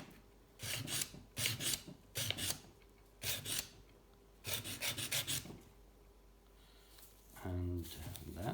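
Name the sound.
filing a chamfer on a bike part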